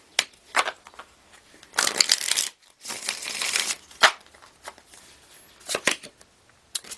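Riffling, shuffling bursts of tarot cards, several quick flurries with soft pauses between, close and fairly quiet, no voices.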